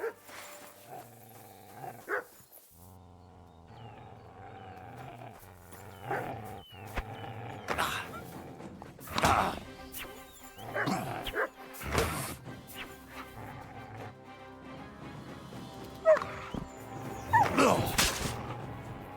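Mutt, the dog companion in Kingdom Come Deliverance 2, barks and growls in scattered bursts amid fight noise and game music, fairly close and moderately loud, with no talking.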